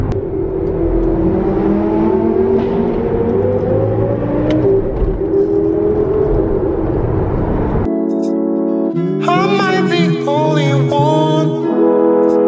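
A sports car engine revs hard inside a tunnel, a loud sustained roar that echoes, then cuts to sharper, higher revving bursts near the end.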